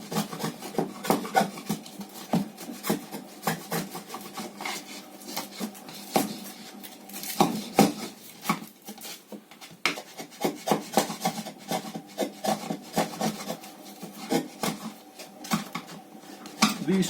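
A metal hammer striking a chisel cutting into wood, producing a steady series of sharp, close knocks and scraping taps repeated at an irregular but busy rhythm.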